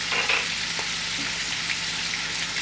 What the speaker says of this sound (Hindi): इसके अंदर थोड़ा सा पहले फ्राई करेंगे।